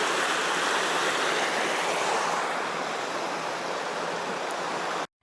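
Water rushes in a steady, broad roar as a stream flows past a dam, close and loud throughout without a break, then stops abruptly.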